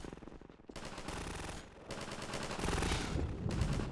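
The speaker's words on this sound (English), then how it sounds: "I hear gunfire." Rapid automatic gunfire from a Half-Life 2: Episode Two firefight, loud and sustained bursts of machine-gun fire with overlapping shots throughout, no talking.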